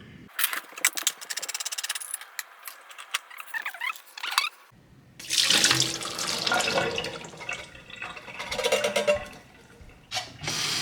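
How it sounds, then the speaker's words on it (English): Drained chickpeas get rinsed under a running kitchen tap, a loud, close gush of water that surges and shifts as the flow hits the beans, with a brief drop in flow midway before it resumes strongly. "So drain the chickpeas and then rinse them"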